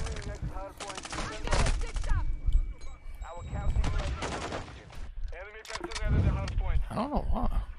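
Shooter video game gunfire crackles in rapid bursts and scattered shots, mixed under a person talking throughout.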